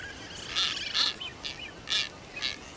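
Frigate bird calls in the wild in South America: several short, high, raspy chirping bursts at uneven intervals over a soft background hiss.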